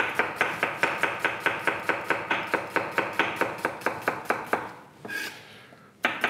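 An onion is chopped into wedges on a cutting board with a knife, giving a fast, even run of crisp, close knocks. The chopping pauses briefly near the end, then a final chop lands.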